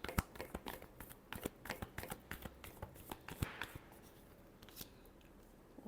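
Tarot cards being shuffled up close: a quiet, rapid series of crisp flicks and taps that falls into an uneven rhythm over several seconds.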